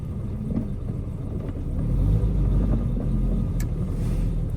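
A 1973 Citroen DS D Super5 engine catches and settles into a steady, close low rumble that swells slightly partway through, running alone without talk.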